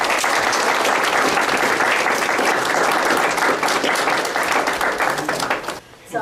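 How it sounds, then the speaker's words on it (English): Loud, sustained applause from an audience at a leadership and mentoring day event welcomes a speaker, dense clapping that holds steady for several seconds before dropping away abruptly at the end. "Please give a round of applause."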